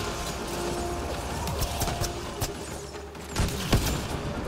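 Gunfire in the video game Mass Effect Andromeda, a few sharp cracks and thumps scattered over a steady low ambient hum, moderately quiet.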